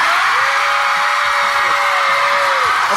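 An audience cheers and screams for a contestant in a bead-count contest. The din is loud and unbroken throughout, with a long sustained yell riding on top of it.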